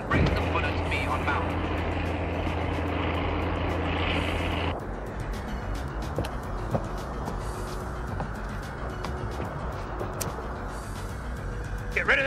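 A propeller airplane's engine drones steadily through a movie scene aboard the plane, a loud low rumble that drops slightly partway through and continues beneath occasional voices.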